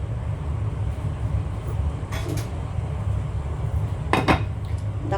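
A lid is set onto a pot of boiling okra, giving a couple of brief metallic clinks over a steady, low cooking rumble.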